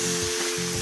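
Poppy seed paste with green chilli is stirred in a hot pan, giving a brief, steady close sizzle with soft scraping strokes.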